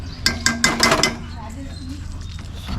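An empty metal kadai, an Indian wok, is set on the stove with a few sharp metallic clanks and clinks close by, followed by quieter low kitchen rumble.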